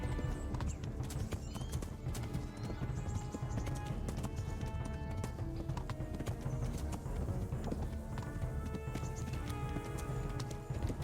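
A horse gallops in the Talmberg horse race in the video game Kingdom Come: Deliverance: rapid, steady hoofbeats drum throughout, fairly quiet, with a brief whinny partway through and no talk.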